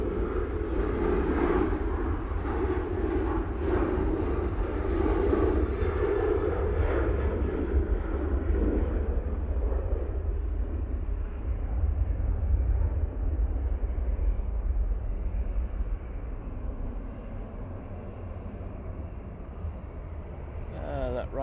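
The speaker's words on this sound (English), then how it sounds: "Right now on the roll, using the 737-800." A Boeing 737-800 on its takeoff roll at Manchester Airport gives a steady, loud jet roar that gradually eases and fades, with people talking over it.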